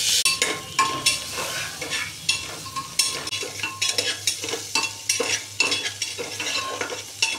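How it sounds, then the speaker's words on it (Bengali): Onion, ginger and garlic fry in a pan, a steady sizzle broken by repeated scrapes and clinks of a spoon stirring against the metal, close and fairly loud throughout with no talk. "এরপরে আমি এতে দিয়ে দেবো পেঁয়াজ আর আদা আর রসুনটা যেটা আমি রেখেছিলাম সেটা আমি এতে দিয়ে দেবো।"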